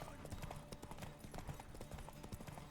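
Hooves clip-clop in a quick, steady gallop as a horse runs in The Witcher 3 video game, faint but regular, with a voice speaking briefly underneath.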